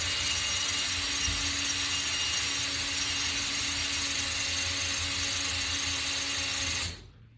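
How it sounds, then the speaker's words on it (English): Bottom screws being backed out of a latch bar exercise system wall mount with a power tool, a steady, loud whirring and ratcheting drone that runs unbroken for about seven seconds before cutting off abruptly. "take the bottom screws out first"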